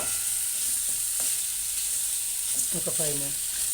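Fenugreek, coriander seeds and cumin fry in hot oil in a pan, a constant close sizzle with brief stirring clinks and a faint voice-like tone near the end.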